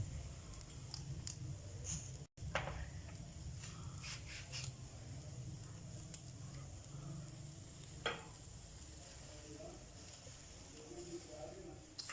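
Chicken leg pieces cook on a hot tawa at low heat, stirred around with a steady sizzle and scraping strokes, plus a brief sharp clank near the middle; a voice speaks quietly underneath.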